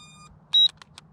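A Visuo Zen K1 quadcopter powering on gives a short electronic beep followed by a couple of quick fainter blips, close and clear over a low hum.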